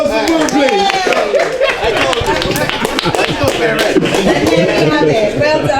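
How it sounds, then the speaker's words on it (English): Audience applause at a talk on toxic relationships: a dense patter of claps mixed with chatter and light laughter, sustained for several seconds close by. "Can we get a round of applause for Will,"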